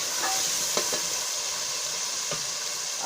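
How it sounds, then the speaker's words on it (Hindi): Tomatoes frying in a pan for kali mirch salan give a steady, fairly loud sizzle with a few soft stirring scrapes, close by and without talk. "अब हम टमाटरों को उतने तक भूनेंगे जितने तक हमारे टमाटर गल नहीं जाते।"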